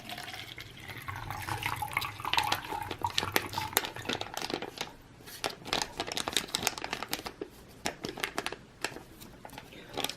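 Emergency drinking water pours from a torn pouch into a glass, with close trickling and splashing and a few light clinks of the container, quiet and without talk.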